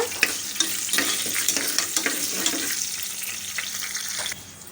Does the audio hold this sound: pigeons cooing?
no